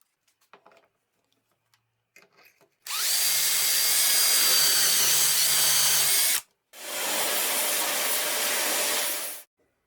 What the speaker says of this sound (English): And now I can use the doweling jig and drill without any problems.